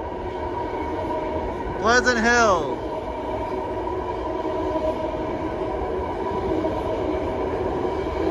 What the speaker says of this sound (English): Ten-car two-door legacy fleet BART train now leaving